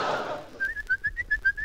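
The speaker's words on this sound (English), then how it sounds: "whistling, too, huh?" A man whistles a short, bright tune in a run of quick, clear notes after a brief burst of noise, close and fairly soft.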